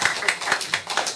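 A congregation claps together at a church service, a short burst of brisk, close applause.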